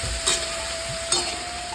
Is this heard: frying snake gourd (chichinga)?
yes